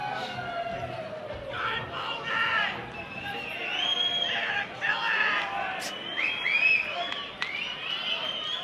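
A partial hometown crowd in Traralgon cheers and cries out at a boxing fight as a fighter is introduced, a dense, sustained roar of voices with rising shouts, heard fairly far off in a large hall.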